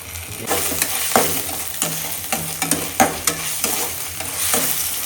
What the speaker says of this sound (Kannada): ಇವಾಗೆಲ್ಲ ಚೆನ್ನಾಗಿ ಮಿಕ್ಸ್ ಮಾಡ್ತಾ ಇದ್ದಾರೆ